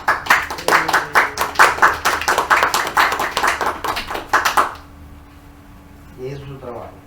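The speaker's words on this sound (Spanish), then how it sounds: "Vamos a dar un aplauso a Esther" A small group in a Spanish-language Bible class applauds Esther for her drawing work, steady close clapping for about four and a half seconds that stops abruptly, followed by near silence and a brief voice.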